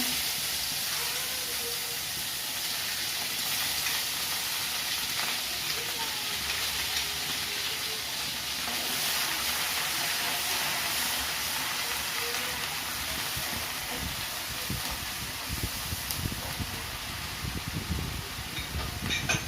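Ground spice paste fries in hot oil for shorshe ilish, a dense, continuous loud sizzle like heavy rain, close and steady with bubbling growing rougher toward the end; no talk.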